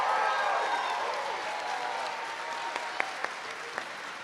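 An audience at a collegiate honor society induction ceremony applauds its new members, a dense burst of clapping that starts full and slowly fades, with a few sharp individual claps standing out near the end.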